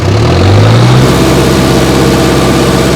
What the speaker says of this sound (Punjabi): ਦੇਖੀ ਹੁਣ ਕਲਚ ਨੱਪਣ ਲੱਗਾ ਰੇਸ